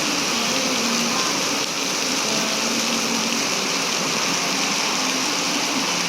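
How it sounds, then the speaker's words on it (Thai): Steady rain keeps falling outdoors in Thailand as a storm eases, a dense, even hiss of drops that holds at the same level throughout with no voices. "แต่ก็ยังมีฝนตกอยู่นะครับยังมีฝนตกอยู่นะครับ"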